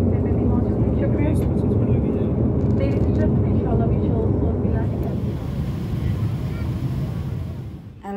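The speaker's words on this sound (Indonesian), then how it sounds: "Sekarang saya lagi ada di dalam pesawat Emirates menuju Dubai." A steady, loud broadband roar fills the cabin of an Emirates airliner flying to Dubai, with engine and air noise droning throughout and faint voices in the background.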